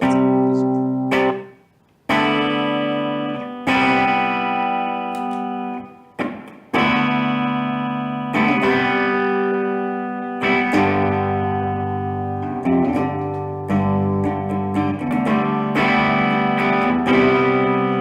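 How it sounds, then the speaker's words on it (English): Electric guitar played through a T-Rex effects pedal on its room reverb setting: sustained chords and picked notes with a short, natural ambient tail, loud and continuous with a couple of brief pauses, no talking. "that's a classy reverb. Right, it's not overwhelming."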